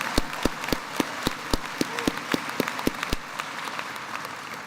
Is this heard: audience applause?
yes